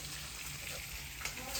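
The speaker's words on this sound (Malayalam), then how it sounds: "അമ്മ ഇവിടെ ചിക്കനൊക്കെ പൊരിക്കുകയാണ് കേട്ടോ" Chicken frying in a home kitchen for biryani, a steady broadband sizzle with a few small pops and crackles, moderately loud and continuous throughout.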